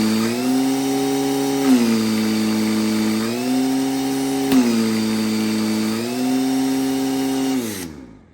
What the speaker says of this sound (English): So you guys can hear the supercharger speed up as we actuate the bypass valve